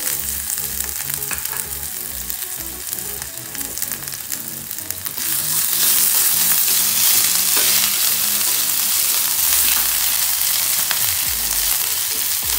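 Ginger, garlic and green chilli paste fries in a pan, a loud continuous sizzle with stirring beneath a low hum, swelling brighter and hissier about halfway through, no voices.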